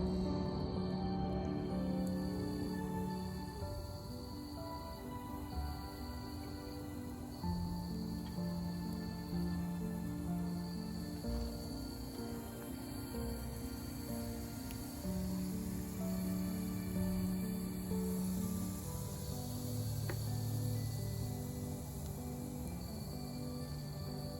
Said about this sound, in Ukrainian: цвіркуни заспівали так гучно